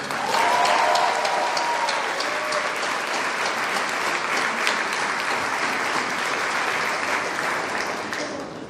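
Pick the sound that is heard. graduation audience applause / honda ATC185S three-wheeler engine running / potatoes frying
graduation audience applause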